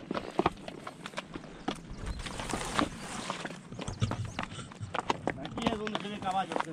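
Two Arabian horses clip-clop along a countryside trail, their hoofbeats steady and close amid rustling, with people talking throughout.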